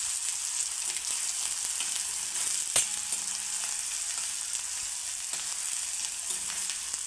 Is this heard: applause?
no